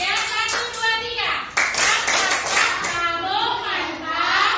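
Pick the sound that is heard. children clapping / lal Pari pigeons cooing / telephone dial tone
children clapping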